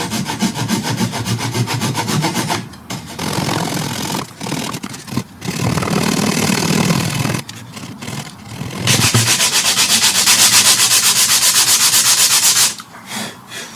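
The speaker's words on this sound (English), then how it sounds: "Let's just saw this flush and we should be on our way." A hand saw cuts flush through hardwood in loud, rasping back-and-forth strokes, with a few brief pauses between bursts of steady sawing.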